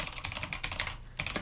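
Typing on a computer keyboard while entering data into an Excel spreadsheet, heard as rapid, close, light key clicks. The run of strokes pauses briefly, then a short final burst of typing follows.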